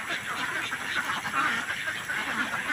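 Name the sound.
pet ducks quacking as they arrive in the afternoon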